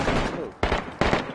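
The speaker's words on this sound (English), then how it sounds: "Multiple shots." Gunfire in the video game DayZ cracks out in loud bursts, one sustained volley followed by two sharp separate shots close together.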